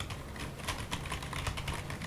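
Rapid, continuous typing on a Logitech MK215/MK220 membrane keyboard, soft dense clicks close to the mic with no pauses over a couple of seconds and no talking.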